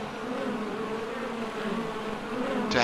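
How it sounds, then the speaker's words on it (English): Bees buzz steadily around a beehive in the video game ARK, a dense insect drone with wavering pitch that holds close and continuous, ending with a short brighter rustle. "It's a beehive."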